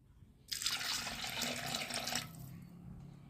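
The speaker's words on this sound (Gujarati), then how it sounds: "હવે એમાં હું પાણી નાખીશ" Water gushes into a cooking pot of tempered dal for about two seconds, a loud splashing pour close by that stops abruptly, leaving quiet room tone.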